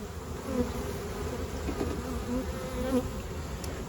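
Honey bees crowding the top of a hive during a summer dearth, a dense continuous buzz close to the microphone, with a few louder individual bees passing near, and no talking.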